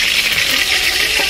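Pieces of chicken frying in hot oil in a wok, a steady loud sizzle with faint stirring scrapes throughout, no voices.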